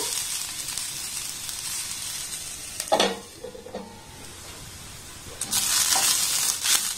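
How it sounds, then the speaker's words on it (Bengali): Vegetables fry in a pan on a low gas flame with no water added, giving a steady broadband sizzle. A few scraping stirs cut in midway, then the hiss swells louder again. "দেখুন সবজিটাকে আমি একটু হালকা করে ভালোভাবে নাড়াচাড়া করে ভেজে নিয়েছি।"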